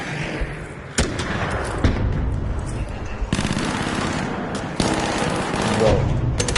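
Enemy gunfire in the ARC Raiders video game: loud bursts of rapid automatic shots with sharp impacts and booms, dense and close, continuing throughout.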